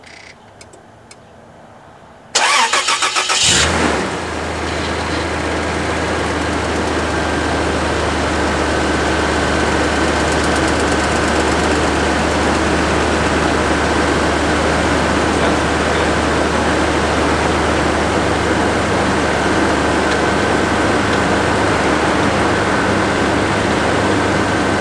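A 1997 Toyota Land Cruiser engine cranks and catches after a short quiet lead-in, then settles into a loud, steady idle with a low rumble and whirring accessory noise close by, no talk.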